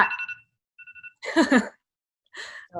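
A mobile phone rings during an interview, short repeated electronic tones with breathy sighs and voice sounds between them, close and clear in a quiet room.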